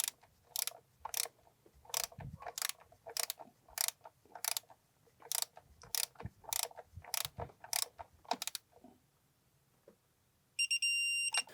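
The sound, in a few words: tightening BMW M52/M54 valve cover bolts with a wrench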